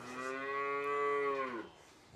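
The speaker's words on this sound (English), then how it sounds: "You can hear them bawling, they want their milk." Cattle calves bawl for milk in a barn, one long, loud, harmonic moo held for about a second and a half before it trails off, with no talk over it.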